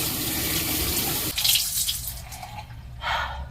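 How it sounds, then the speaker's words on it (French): Hot tap water runs into a sink to rinse off exfoliating face cream, a steady close splash that cuts off, with a few drips and a short final burst of flow near the end. "Moi, je rince à l'eau chaude."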